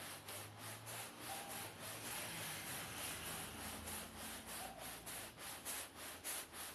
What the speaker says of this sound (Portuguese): Praticamente como se estivesse serrando a espuma.